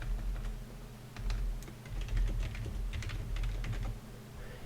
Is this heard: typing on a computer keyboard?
yes